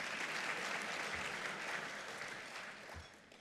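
An audience at a Texas policy summit bursts into applause, a broad sustained wash of many hands that holds steady and then slowly fades toward the end.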